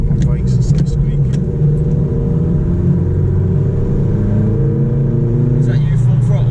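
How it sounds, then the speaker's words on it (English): A Vauxhall Corsa D fitted with a performance air filter pulls hard at full throttle in second gear, its engine note rising steadily up close, with people talking over it inside the car. "Is that you full throttle? It's in second though."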